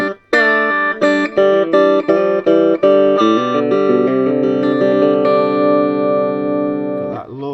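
Electric guitar through a Selmer Little Giant valve amplifier being converted to a 5F2-A Princeton circuit: a run of separate strummed chords gives way to a long, ringing, shimmering sustain that fades out near the end, with no talking.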